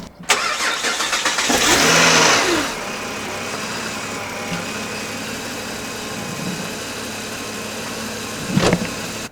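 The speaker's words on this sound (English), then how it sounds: "we're going to give it a crank, see how it goes" A car, just given an oil change, oil flush and new fuel filter but still awaiting spark plugs, cranks briefly then catches and starts, settling into a steady idle with a short rev near the end; no voices.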